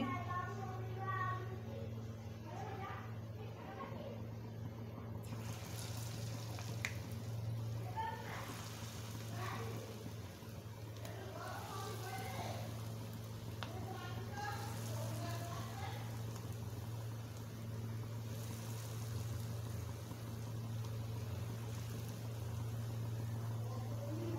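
A batch of palm fritters (taler bora) fries in hot oil with a steady, crackling hiss. It runs the whole time under a low hum while a person talks over it.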